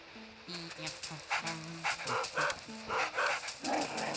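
A dog barking in the video game Luigi's Mansion, a series of short rhythmic yaps and pants repeating every half second or so over game music, a voice talking faintly beneath.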